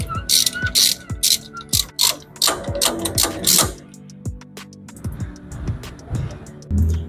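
A ratchet wrench with a T55 Torx key clicks in repeated bursts, loosening Torx bolts on the brake caliper of an Opel Blazer, close and sharp with short pauses between strokes and a few metallic knocks, no talk.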